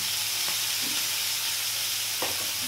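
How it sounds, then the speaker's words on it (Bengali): Chopped small onions, five or six of them, frying in a pan for a fish curry make a steady close sizzle with a few soft stirring scrapes, loud and continuous without any talking. "তো এই পেঁয়াজটা আমি এবার একটু লালচে করে ভেজে নেব"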